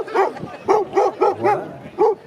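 A dog near a bike race start area barks repeatedly in sharp, loud bursts, about six barks in a little over two seconds, with a faint whimper between them.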